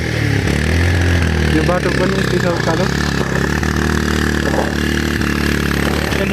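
A motorbike engine labors up a steep, rough off-road mountain trail on the way to Manang, Nepal. Its low, steady drone runs beneath continuous talking throughout.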